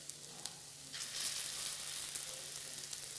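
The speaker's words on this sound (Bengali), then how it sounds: "আমি ডালের বড়াগুলো সব ভেজে নিয়েছি" Lentil fritters (dal bora) fry in oil in a karai with a soft, even sizzle that swells after the first second. A few faint clinks of a utensil come through and no one speaks.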